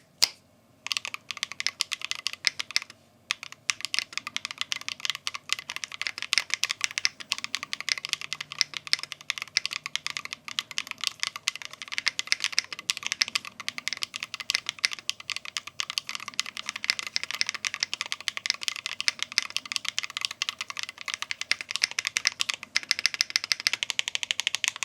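Fast, continuous typing on a GT60 Pro Hall Effect keyboard with an FR4 switch plate, close-up with dense overlapping key clacks and a rattly edge and only a brief pause near the start.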